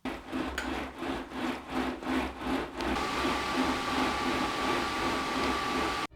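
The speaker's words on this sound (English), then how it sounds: "it introduces a little bit of an extra noise compared to when you are riding without a rocker plate" Turborocks Realplate React rocker plate under a bike on an indoor trainer, a rhythmic rubbing creak with each pedal stroke that gives way to a steady whooshing hum, close and continuous.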